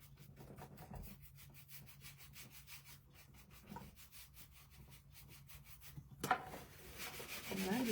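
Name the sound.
buffing wax and clay on a wooden wine box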